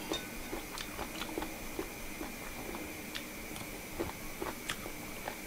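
Steady crunchy chewing of spicy chicken feet salad, sharp crisp bites repeating about every half second, close and fairly quiet over a faint constant hum.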